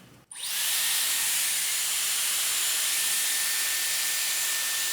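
A Dyson Airwrap hair styler switches on after a brief click and blows a loud, steady high-pitched airy hiss with a faint whine, running close and continuous to the end.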